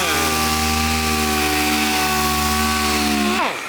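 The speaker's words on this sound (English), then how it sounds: "So we'll hit it with a DA and a 500 and you'll watch them disappear" Dual-action orbital sander fitted with 500-grit paper works over car paint on a GSA, a steady loud motor whine held for over three seconds before it winds down at the end.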